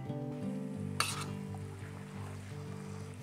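Eggs frying in a pan while cooking shrimp pad thai, a steady close sizzle with a sharp clatter of utensil against the pan partway through, under a constant low hum.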